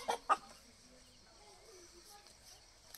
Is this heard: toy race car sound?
no